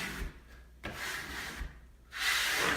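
A bevel-edged smoothing tool is drawn across fresh wallpaper in a few short, soft scraping strokes, pushing out air and glue, close and quiet with brief pauses between passes.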